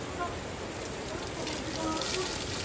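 Steady soft hiss of rain falling, even and continuous, with faint scattered patter.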